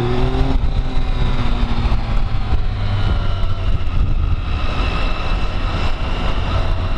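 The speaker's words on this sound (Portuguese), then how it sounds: "Essa moto tá nervosa hoje, não sei porquê." A Yamaha MT-07 motorcycle engine revs hard and loud, a sustained rising roar climbing through the gears, with no talking over it.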